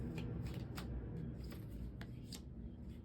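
Tarot cards being shuffled before a three-card draw: a steady crisp riffling with quick snaps, close and fairly quiet, no talking.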